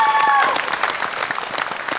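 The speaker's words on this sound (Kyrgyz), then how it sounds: "Казыра кол чабар." Audience applause for a Kyrgyz band on a TV show stage, dense clapping that starts alongside a brief held musical tone and continues steadily to the end.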